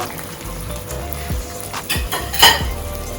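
Tomato going into a hot pan for Jamaican-style corned beef brings a steady close sizzle, with a louder burst of hissing near the end and light clinks of a utensil against the pan.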